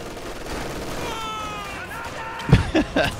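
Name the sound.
grenade explosions and gunfire in the video game Company of Heroes 2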